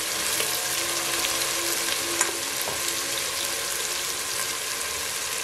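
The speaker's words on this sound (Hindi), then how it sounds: "प्याज के साथ इसको फ्राई कर लेते हैं।" Ginger garlic paste fries with onions in a pan, a steady loud sizzle with occasional stirring scrapes, close and continuous with no talking.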